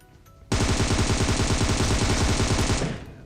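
Rapid automatic gunfire from a PUBG Mobile match bursts in suddenly after a quiet start, a loud, dense rattle of shots lasting over two seconds before fading away.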